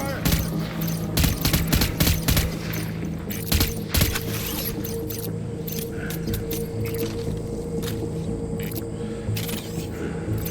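Gunfire in the Death Stranding game, rapid bursts of shots crackling in irregular clusters over a constant low rumble, with shouted voices mixed in.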